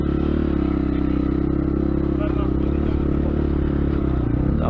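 A small pit bike engine, a 172 FMM motor on a 2021 Kovi Lite, runs loud and close, idling with a buzzing, vibrating drone and a slight rise in revs near the end.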